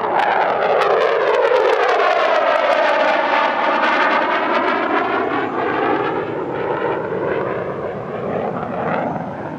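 An F-16 fighter jet at the Dubai Airshow passes by with a loud, close roar whose tone sweeps down and then rises again in a pronounced passing shift, lasting the whole stretch.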